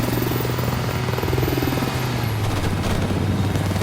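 Helicopter in the video game Call of Duty: Modern Warfare, a loud, steady rotor thump and engine drone filling the whole stretch as part of dense battle noise.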